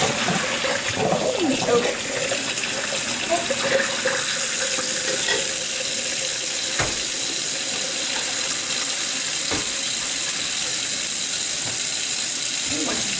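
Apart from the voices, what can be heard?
cold water running from kitchen tap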